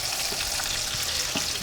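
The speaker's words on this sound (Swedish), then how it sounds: "Innan vi gör resten av biffarna medan den första batchen där steks." Beef patties fry in a pan for Swedish pannbiff, giving a continuous close crackling sizzle with small pops and no talking.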